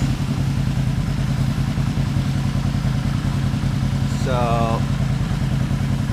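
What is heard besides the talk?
Yamaha XS500 motorcycle engine idling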